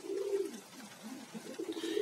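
Domestic pigeons coo during a morning feeding, a low, rolling cooing that swells and repeats close by for two seconds, with no talking.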